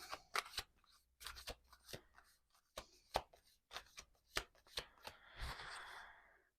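Tarot cards flicked and slid one by one while going through a deck, crisp close papery snaps and rustles at an uneven pace, ending in a longer shuffling rub.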